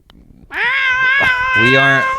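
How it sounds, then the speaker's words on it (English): A cat gives a loud, drawn-out, unhappy meow lasting over a second, then a second strained yowl, close to the microphone with people talking around it. "Is there a cat here? There is a cat."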